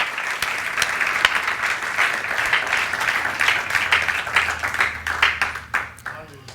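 A church congregation claps and applauds together in a sustained, dense wash of hand claps that tapers off near the end, with voices mixed in beneath.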